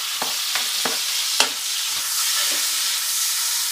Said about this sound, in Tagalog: Igisa ko lang muna to. Lagyan natin tong sibuyas.